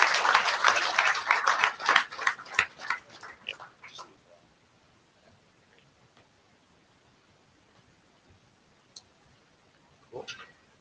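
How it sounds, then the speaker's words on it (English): Audience at an IETF hackathon clapping for the competing teams, a burst of loud, fairly sparse claps for about four seconds that thins out and stops, with a couple of faint isolated claps later. "maybe just another round of applause for all the teams and these great"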